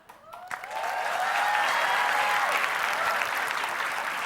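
A crowd breaks into loud, sustained applause that swells quickly and holds steady, with scattered whoops rising over the clapping.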